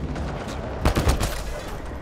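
Gunfire with incendiary ammunition in the sci-fi shooter game Mass Effect: Andromeda: a short burst of several rapid shots near the middle, over a steady background rumble of game ambience.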